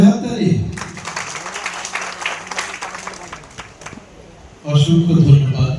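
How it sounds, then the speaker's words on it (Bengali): An audience at a teachers' and MP's meeting bursts into loud applause, dense clapping that swells then fades, with a voice speaking over a microphone before and after. "জোরে হাততালি।"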